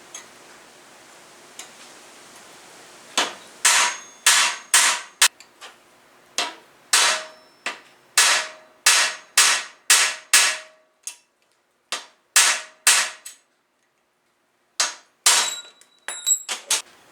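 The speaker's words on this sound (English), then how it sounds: "Eighth inch bar stock. I'm going to chop a piece off of it," Sharp metallic impacts while chopping a piece off eighth-inch mild steel bar stock, a series of loud, close strikes in quick bursts with short pauses between groups.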